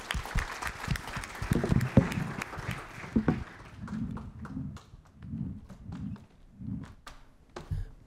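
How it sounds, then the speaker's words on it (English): Conference audience applauding a panel, a fairly sparse, moderate patter of claps that thins into scattered taps and thumps toward the end, with no one speaking. "Please join me in a big round of applause for our panel."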